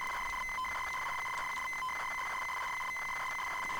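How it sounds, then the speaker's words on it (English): A ZX Spectrum cassette game loads with a sustained shrill data tone, interrupted now and then by short warbling bursts and dropouts, running evenly and alone without speech. "Yeah, it's definitely a loading screen. It sounds like a loading screen."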